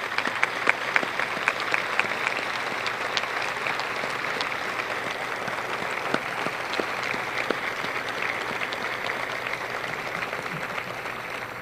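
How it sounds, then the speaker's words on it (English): Steady applause from an audience honoring Pearl Harbor survivors at a 70th anniversary commemoration, dense sustained clapping at even volume throughout with occasional sharper individual claps standing out. "I ask that you again join me in applause for their contribution and their service to our great country"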